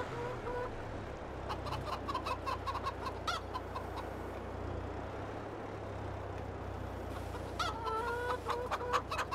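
Chickens cluck in Farming Simulator 22, scattered soft clucks and short calls from a small flock over a steady low hum, fairly faint, with no talking.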